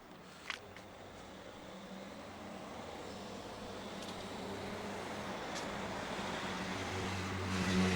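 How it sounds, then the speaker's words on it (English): Light road traffic on a street along London's South Bank, a steady moderate rumble of passing cars and buses with engines swelling slightly toward the end, one brief sharp knock near the start, no voices. "this is a traffic road, guys, and it's not so busy, surprisingly"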